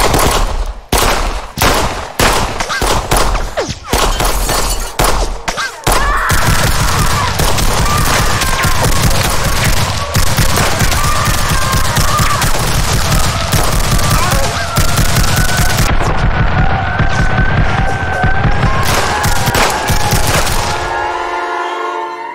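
Gunfire rings out in a chaotic movie shootout, first as scattered sharp shots, then as a dense, sustained barrage of rapid bursts that fills the scene loudly before cutting off.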